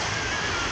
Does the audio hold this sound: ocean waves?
yes